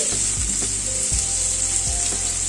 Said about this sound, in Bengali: পেঁয়াজটা দিয়ে আবার একটু ভেজে নিচ্ছি